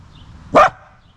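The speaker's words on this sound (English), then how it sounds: "You have such a big voice for such a little dog." A small puppy gives one sharp, loud bark close by, with near silence around it.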